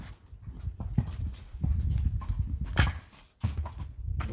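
A horse's hooves clop as it walks around in a circle during shoeing, an uneven close series of dull thuds and scuffs.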